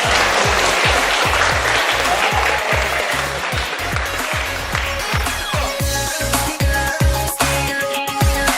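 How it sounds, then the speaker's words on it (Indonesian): Schoolchildren on an educational study tour in Yogyakarta break into loud, sustained applause, the clapping dense and continuous over a steady low rhythmic thumping, with a tonal ringing hum emerging toward the end. "Luar biasa, tepuk tangan"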